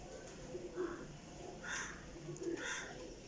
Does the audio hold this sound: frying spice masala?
no